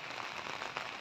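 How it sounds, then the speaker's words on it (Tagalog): Rain falls steadily as a soft, dense hiss of drops landing on surfaces outdoors while a manual boom is being raised. The sound is continuous and fairly even, with no one talking. "Pero dumating yung ulan"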